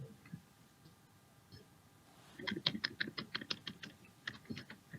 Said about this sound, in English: I can hear someone with a keyboard